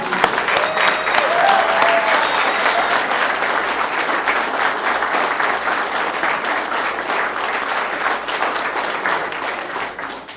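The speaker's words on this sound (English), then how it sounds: "Thank you all so much for that warm applause." Sustained, warm applause fills an award ceremony hall, a dense, even wash of many hands clapping that stays loud throughout and eases slightly toward the end.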